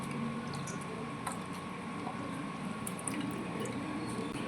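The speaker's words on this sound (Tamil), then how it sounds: "இதை ஒரு ஸ்பூனை வச்சு நல்லா அழுத்தி விட்டுருங்க." Blended amla and water pressed through a strainer with a spoon gives faint wet squishing and soft drips, quiet and close, against a low hum.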